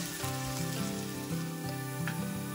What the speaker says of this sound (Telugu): ఉల్లిపాయల్ని లైట్ బ్రౌన్ కలర్ వచ్చే వరకు వేయించుకోండి.